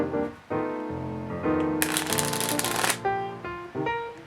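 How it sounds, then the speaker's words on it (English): Playing cards being riffle-shuffled in the hand: a soft ruffle, then a dense, loud burst of rapid flutter as the two halves release into each other, close by and alone with no talk. "I'll do an in-hand riffle for you guys. So, take half of the cards,"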